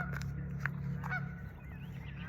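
A goose honks repeatedly in short, nasal calls against a steady low outdoor rumble, fairly close and moderately loud with no talking.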